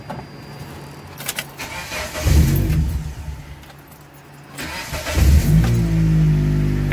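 A 1995 Mitsubishi Eclipse with a manual gearbox sits in neutral as its engine cranks and catches, rising in two loud bursts before settling into a steady low idle; keys jangle briefly near the start.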